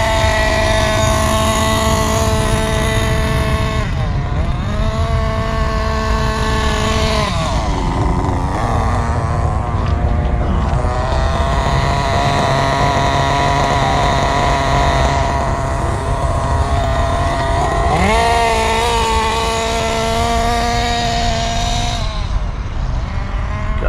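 A Kyosho Inferno NEO 3.0 nitro RC car's small engine buzzes continuously during break-in on Morgan fuel with 12% oil, its loud, close, high-pitched whine rising and falling through several throttle passes with idling between them.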